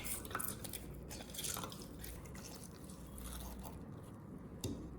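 Wet squishing and dripping as halved lemons are juiced by hand one after another, soft irregular squeezes with a few sharper drips and clicks, close and quiet.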